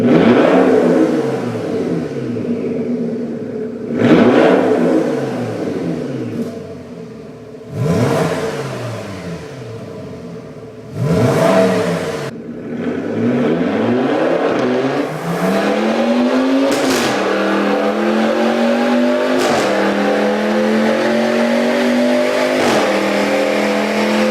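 A loud high-revving V10 car engine repeatedly sweeps up through the gears in sharp bursts, then holds a sustained screaming wail near and alone.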